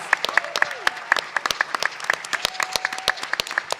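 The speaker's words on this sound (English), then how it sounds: "give them another round of applause." Applause from a dinner-event audience, with fairly sparse individual claps in a rhythmic pattern standing out over a thin crowd wash, plus a faint voice and tonal sound in the background.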